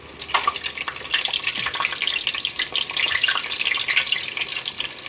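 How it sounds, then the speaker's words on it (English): Chile relleno frying in a pan, browning on its sides, with a continuous bright crackling sizzle of hot oil, steady and close, with no voices over it. "you want to make sure that you get all the sides of the chile relleno browned"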